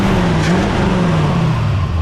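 The engine of a 1978 Ford F-350 truck idles steadily and close by, a loud, even low rumble with a slight drift in pitch and no pauses.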